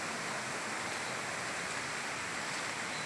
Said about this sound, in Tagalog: Tabing-tabing ilog pa.